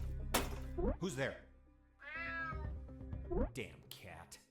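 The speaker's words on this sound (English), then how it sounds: "Damn cat." In the UnMetal video game, a cat gives one distinct meow midway, set between bursts of a voice speaking before and after it.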